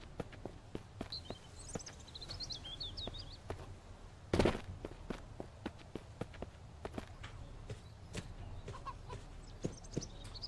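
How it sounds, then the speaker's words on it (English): Faint hen clucks and bird calls in the video game Mist Survival over a quiet outdoor ambience with scattered footsteps and a brief louder thump midway; no talking. "There are chickens in this game."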